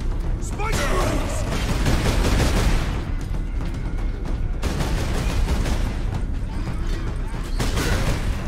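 Rapid gunfire and clanking mechanical weapon noise from the Warhammer 40k Space Marine video game, dense bursts filling the whole stretch with a brief drop midway, loud and close, mixed with shouted battle cries.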